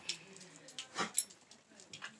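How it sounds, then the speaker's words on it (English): Several dogs shut inside together give short, muffled barks and whimpers, a few scattered bursts close by over a quiet background. "Eight dogs in there."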